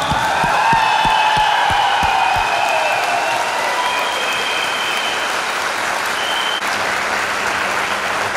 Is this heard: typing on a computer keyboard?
no